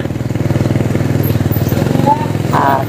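A motorized tricycle engine chugs steadily close by at a tricycle stand along Ramon Magsaysay Boulevard, with a throbbing rhythm and faint street noise around it.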